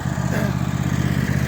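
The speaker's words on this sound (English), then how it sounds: "Tractor needs to be out anyway to get a little bit of a run" A tractor engine runs steadily at a cabin, a close, loud mid-pitched chugging with a fast regular pulse throughout the brief moment.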